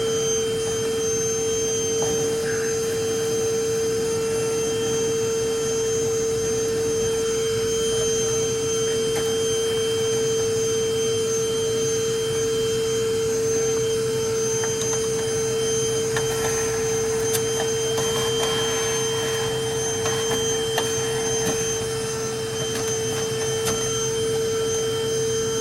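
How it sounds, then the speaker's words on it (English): A vacuum cleaner sucks out the drain line of a leaking freezer, a steady loud motor whine with a constant tonal hum running unbroken throughout, with no talking. "Suck out that drain line too."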